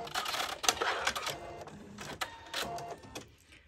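Sewing machine tacking at the end of a shirt collar seam, a few short, close stuttering bursts of stitching.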